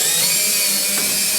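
A power drill drives long self-tapping screws into sheet metal while an Aprilaire 700M humidifier is being installed, making a steady, loud, high-pitched motor whine that holds throughout the short stretch.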